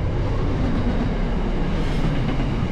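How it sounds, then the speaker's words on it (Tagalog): A long cargo train rolls past steadily in rural Victoria, a loud, continuous rumble of heavy wagons with faint rhythmic clatter of wheels on rails, unbroken throughout. "Cargo train. Haba yan."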